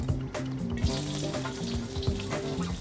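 Oil crackles and sizzles in a pan while adobo is cooked, a close, fairly quiet frying hiss with small pops and stirring scrapes.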